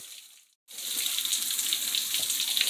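Thin trickle of a forest waterfall in the dry season, running low and barely dripping, gives a steady, fairly close hiss of falling water after a brief silent gap near the start, with no voices.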